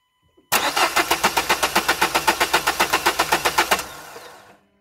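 A diesel car engine with a Delphi injection pump contaminated by metal filings cranks loudly and close, about twenty rapid even starter pulses over three seconds, then the sound eases off and fades into a brief low rumble.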